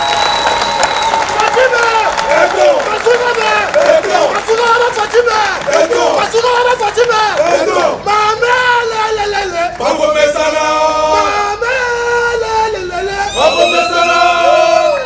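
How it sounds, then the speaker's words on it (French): At an inauguration speech, a large crowd applauds and cheers with energy. The clapping is loud and unbroken, mixed with shouting and chanting voices that swell and fall across the whole stretch. "Vous savez, s'il vous plaît, applaudir avec énergie, Madame la Gouverneure."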